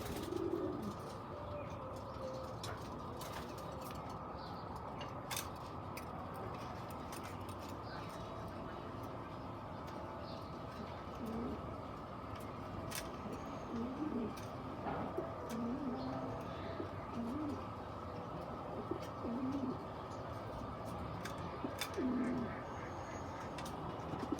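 Pigeons coo in a loft of racing birds kept as breeding pairs, soft low calls repeating every few seconds against a steady background hum, with occasional faint chirps.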